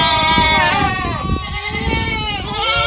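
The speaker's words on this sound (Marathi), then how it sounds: "शेळ्याचा सोडायचा टायमिंग झाला काय की लय वरडा लागले?" Goats bleating in a low-cost farm shelter, with several loud, close, overlapping wavering calls that continue almost without pause.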